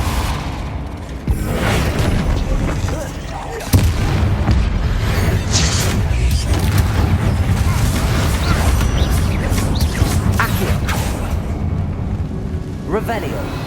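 Confringo and Depulso spell blasts from the Hogwarts Legacy video game land as booming impacts over a dense, continuous wash of game effects and rumble, with a sharp hit early on and a steady roar after.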